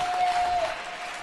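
A wrestling crowd cheers and applauds in a steady wash of noise, with a faint tone underneath.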